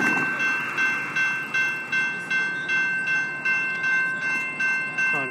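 A westbound GO commuter train at Kerr Street, with cab car and MPI MP54AC and MP40PH-3C locomotives, rumbles past nearby with a steady roar and a regular rhythm of wheel clatter over rail joints throughout.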